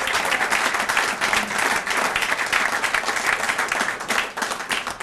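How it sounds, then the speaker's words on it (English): An audience at a 2014 Joe DiMaggio 100th birthday celebration gala applauds steadily, a dense wash of many hands clapping at moderate distance throughout. "A round of applause."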